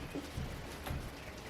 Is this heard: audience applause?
no